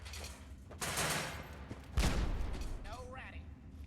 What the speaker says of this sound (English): Was that meant to be like a flashbang, or is there a possibility that it was a bug?